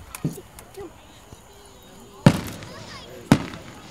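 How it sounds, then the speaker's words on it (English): July 4th fireworks go off in two sharp, loud bangs a second apart, with a smaller pop earlier and a brief whistle between, while people talk nearby. "Get the fireworks."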